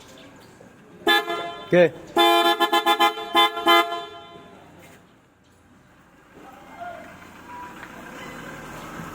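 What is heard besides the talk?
Piaa Super Bass car horn being tested on a Nissan Terra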